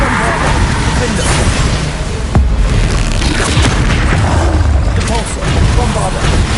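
Bombarda explosion spell cast in a Hogwarts video game: a loud, dense burst of booming impacts with a sharp thump midway, a roaring blast texture filling the moment, and a voice calling out over it.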